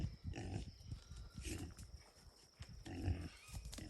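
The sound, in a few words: Red Wattle Tamworth Mangalitsa cross piglet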